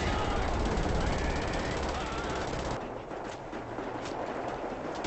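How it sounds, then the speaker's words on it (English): Gunfire in the video game Wolfenstein: rapid automatic shots hammer loudly for about three seconds, then drop to quieter, scattered fire. "Alrighty, I'll just shoot."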